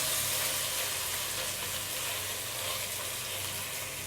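Chicken tikka pieces for a peri peri restaurant-style dish fry in a pan after being turned, giving a steady, dense sizzle that holds evenly throughout at close range, with no voices.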